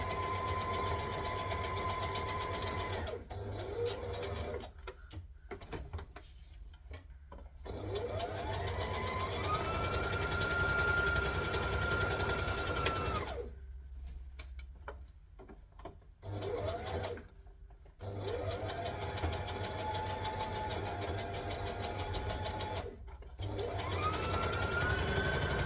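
A sewing machine stitches a McCall's M8083 garment in several bursts of steady, whirring running, separated by short pauses, close and fairly quiet with no talking.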